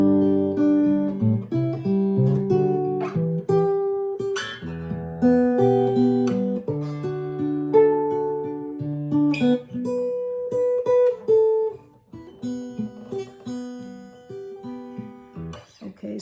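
A finger-style acoustic guitar plucks a melody, with clear individual notes ringing over picked bass strings at a moderate, steady pace.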